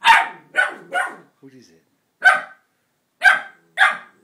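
A puppy barks in short sharp yaps, several in a quick row, then a soft whine and a few more separate barks, close and loud, with a person speaking to it between them.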